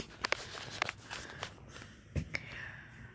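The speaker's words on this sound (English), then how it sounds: "It sounds like those footsteps." Several irregular footsteps, near and fairly light, a few sharp taps spread unevenly over a few seconds with a slightly heavier thud toward the end and soft shuffling in between.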